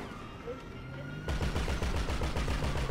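Automatic weapon fire in the video game Grand Theft Auto, a dense rapid stream of shots that starts abruptly partway through and keeps hammering on loudly with no pause.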